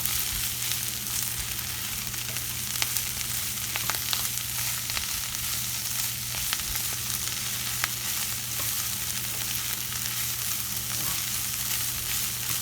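Spinach cooks in a pan for stuffed mushrooms, giving a steady, even sizzle and frying hiss throughout with a few faint stirring clicks and no talking.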